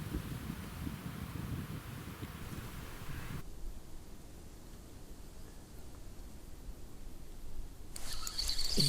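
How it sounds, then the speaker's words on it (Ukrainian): Gusty cold winter wind buffets the microphone outdoors while fishing, a heavy low rumble easing after a few seconds into a steadier, softer rush, then picking up again at the end. "вітер такий, вітер дуже холодний, реально"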